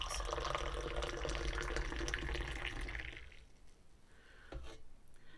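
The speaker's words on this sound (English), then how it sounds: "you're going to begin a process of pouring it out and putting it back in" Moroccan tea pours steadily into a glass in a close, continuous splashing stream for about three seconds, then stops, followed by a brief final trickle.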